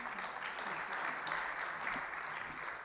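A dinner-session audience at a budget review event applauds in a dense, steady round of clapping, moderately distant and sustained throughout.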